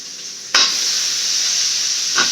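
Vegetables sautéing and sizzling in a pan for a home-cooked Tamil meal, a steady close frying hiss with a couple of sharp stirring scrapes, no talking.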